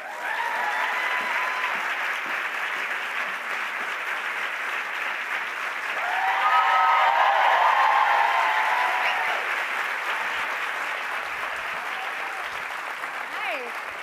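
A theater audience breaks into sustained, loud applause for guests walking on stage at a live interview event, swelling midway with a few faint cheers and voices mixed in.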